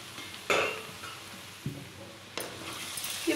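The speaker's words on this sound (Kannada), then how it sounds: "ಇವಾಗ ಬೇಯಿಸಿಟ್ಕೊಂಡಿರೋಂಥ ಕಾಳನ್ನ ಮಿಕ್ಸ್ ಮಾಡ್ಕೋತಾ ಇದ್ದೀನಿ." Cooked horse gram being stirred in a frying pan, with soft sizzling and a few distinct clinks and scrapes of a spoon against the pan, quiet and close, with no talking.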